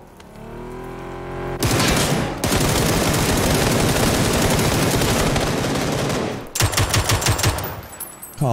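A rapid-fire weapon in a video game shooter, the 420 cannon, blasts a long, loud, unbroken burst of gunfire, then stops and fires a few shorter stuttering bursts.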